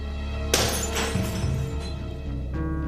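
Window glass shatters in one sudden crash, followed by a couple of seconds of tinkling shards settling, close and fairly loud with no voices.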